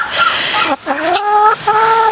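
Chickens clucking up close, a run of short harmonic calls with a brief pause midway, loud and continuous over a faint background.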